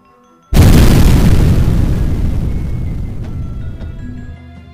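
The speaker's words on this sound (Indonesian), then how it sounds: "Kembali ledakan dahsyat terjadi bagaikan merobek langit dan menggetarkan seantero tempat itu." A dramatic explosion effect in a martial-arts fantasy audio drama bursts in suddenly after a short quiet start, then roars and slowly fades as a long rumbling decay.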